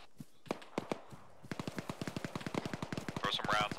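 Video game gunfire crackles in sharp bursts, first scattered single shots, then rapid machine-gun fire rattling continuously and loudly, with some voice chat mixed in near the end.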